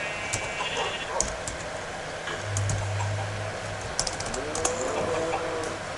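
Soft, irregular tapping of typing on a computer keyboard, close and fairly quiet over a steady background hum, with a brief low tone partway through.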